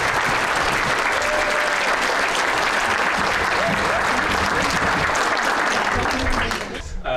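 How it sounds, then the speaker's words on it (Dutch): Dense, loud applause from an audience at a children's municipal council installation in Nissewaard, a continuous roar of clapping that runs steadily before tapering off at the very end. "Ik denk een hartelijk applaus."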